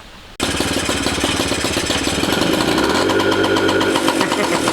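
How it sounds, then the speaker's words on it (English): A free scooter's small engine runs steadily at idle with a heavy intake roar and no revving, loud and continuous after a sudden start, its low rumble settling into a steady throb. "You hear big intake, but no revs."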